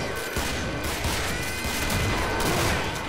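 A rapid burst of dense, booming blasts and crackling gunfire in the co-op video game Killing Floor fills the whole stretch, loud and continuous with no pauses.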